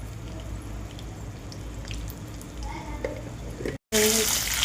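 Chillies frying in a pan while being stirred, giving a steady close sizzle with faint scraping, cut by a brief silence before the sizzle returns louder.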